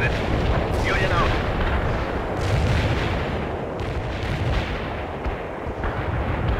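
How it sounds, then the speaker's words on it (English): Mortar barrage explosions in the World in Conflict war game, a dense, continuous rumble of blasts and low booms rolling on throughout, loud and steady with no clear gaps. "The mortar barrage hit the enemy."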